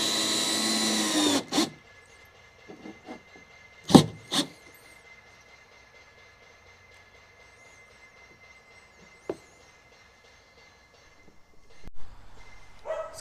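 Dogs bark outdoors at a rural building site, a few sharp isolated barks standing out around the start and again briefly later against quiet background noise, with no talking.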